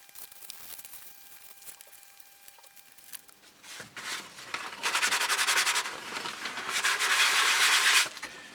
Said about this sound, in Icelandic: Nú er ég að verða búinn að pússa þetta svona að mestu